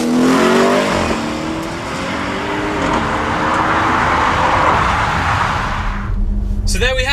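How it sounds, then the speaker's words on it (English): An Audi RS6 fitted with an Audi Sport Akrapovic titanium exhaust revs and roars loudly, a rising engine note at the start giving way to a sustained roaring rush, then a sudden cut and a short sharp squeal at the end. "the introduction and fitment to the Audi Sport Akrapovic titanium exhaust system"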